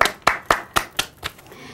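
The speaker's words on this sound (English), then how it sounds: "So we have to give them a round of applause" A few people clap in a small round of applause at a health talk show, six distinct claps slowing and fading over under two seconds, with no voices.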